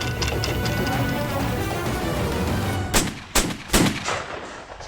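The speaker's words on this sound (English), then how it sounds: "I'm learning how to load one." Muskets at a historic British castle fire in three sharp, loud cracks spaced about half a second apart, following a dense rattling din.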